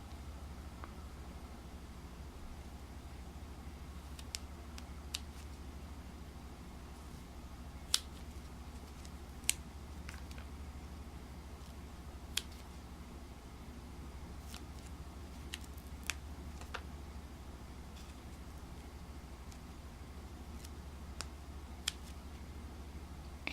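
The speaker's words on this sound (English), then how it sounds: "let me grab some scissors here" Scissors trim paper stamps in a quiet room, giving sparse, sharp little snips at irregular intervals over a faint steady background hum.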